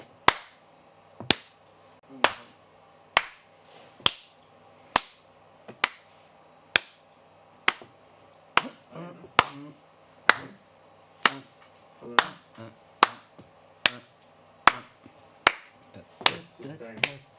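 Steady, rhythmic hand claps in a live studio session at Sector 7G Studios, a sharp crack roughly every second, close and distinct over a quiet background with occasional softer sounds between beats.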